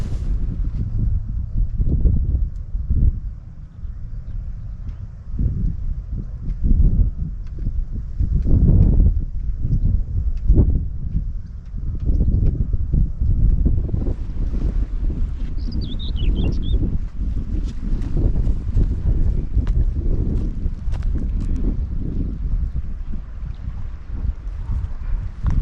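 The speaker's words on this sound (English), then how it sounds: "Gusty old wind." Gusty sea wind buffets the microphone on a South Wales shore during a fishing session, a loud, continuous low roar that swells and eases in irregular surges throughout.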